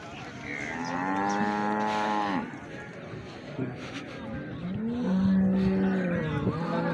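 A water buffalo cow that calved the day before moos at a livestock market in Kharian, two long drawn-out calls close by, with people talking around it.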